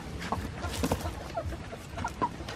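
Chickens cluck in short, scattered bursts against a busy outdoor background, fairly close but not loud.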